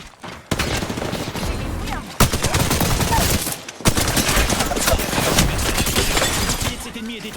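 Gunfire in the video game Apex Legends, dense bursts of rapid shots crackling loudly and almost continuously, broken by two short pauses.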